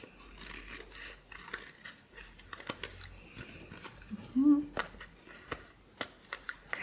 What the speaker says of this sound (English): I am literally just cutting off this white edge